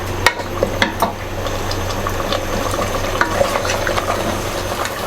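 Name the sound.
mutton with yogurt and oil being fried and stirred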